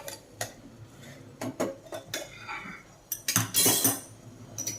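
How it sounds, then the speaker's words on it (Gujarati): A metal spatula scraping and tapping as idli is lifted from the mould onto a plate, several sharp close clinks and scrapes in an uneven rhythm, louder toward the end, with no talking. "તો હવે આપણે તાવીથાથી ડીશમાં લઈ લઈએ"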